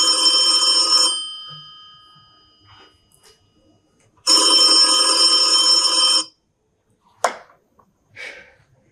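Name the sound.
telephone ringing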